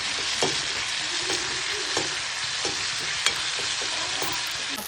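Onions and tomatoes sizzle steadily in a frying pan for bhogi bhaji, the broad hiss holding the whole time, broken by soft spoon scrapes and taps at a regular pace.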